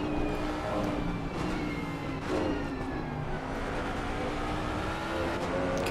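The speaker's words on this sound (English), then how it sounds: "You can just hear the traction control there, can't you, kicking in?" A racing car engine in a racing video game drones and revs steadily throughout at Imola, with rapid stuttering pulses in the tone as traction control cuts in, close and loud.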